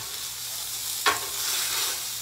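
Shrimp cooking in a pan of thickening alfredo sauce, a steady close sizzle and bubbling hiss with one brief louder stir or scrape midway.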